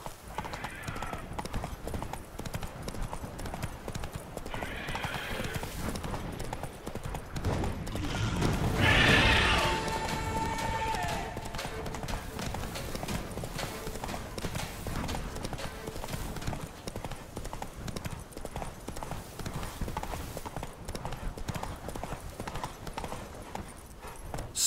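Roach, Geralt's horse in a video game, gallops in a steady clip-clop of hooves with a whinny partway through, loud and continuous under background game sound.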